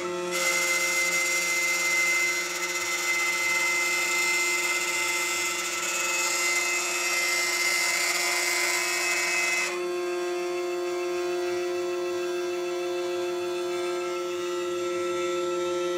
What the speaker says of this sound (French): on va attaquer le perçage pour la plaque de plexi